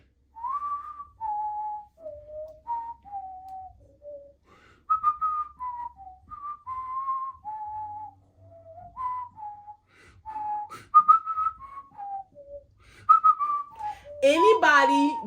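A person whistles a slow melodic tune alone, phrase after phrase with short pauses, clear and fairly close, ending in a brief burst of noise.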